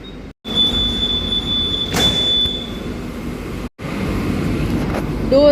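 An express train passes close alongside a Medha AC local train running between Borivali and Virar, a loud steady rush of wheels and rail noise with a high squealing tone, broken by two brief cutouts.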